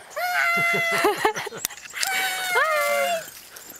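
A dog whines and yelps in rising, squeaky bursts close by, amid excited greetings from people talking over it.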